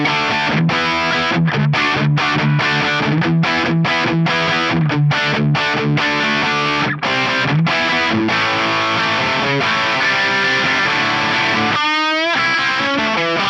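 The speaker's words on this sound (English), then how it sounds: "I've been really surprised by this 1981 drive. It's a boutique Rat clone." Electric guitar driven through a 1981 Drive boutique Rat-clone distortion model on an FM3 into a clean amp: loud, gritty chords chopped into short rhythmic stabs, then ringing sustained notes ending in a bent, wavering pitch.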